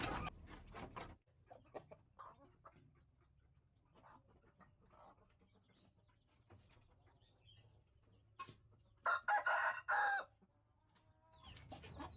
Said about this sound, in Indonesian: Jadi ini ayam pacekan muda kami ya.